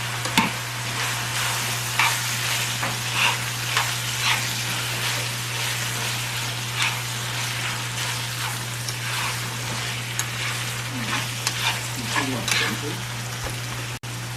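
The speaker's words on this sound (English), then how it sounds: "Now I'm going to come and mix everything together." Alcapurria filling is stirred and fried in a pan, making a continuous soft sizzle with repeated scraping and tapping of a utensil, set over a steady low hum from the stove or a nearby appliance.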